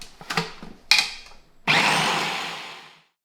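A food processor spins garlic cloves for hummus in short pulses, two brief whirs and then a longer loud blending burst that winds down and stops.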